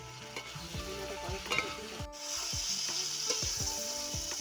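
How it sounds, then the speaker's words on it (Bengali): Potatoes frying with spices in oil for a fish curry, a steady sizzle with repeated scraping stirs of a spatula in the pan, close and moderately quiet. "সব মশলার সাথে কিন্তু আলুটাকে ভালো করে কষে নিচ্ছে"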